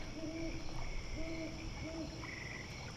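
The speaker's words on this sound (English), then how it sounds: "There was the distant hoot of an owl," A distant owl hoots at night in three or four soft, evenly spaced calls, faint against a steady chorus of insects and frogs.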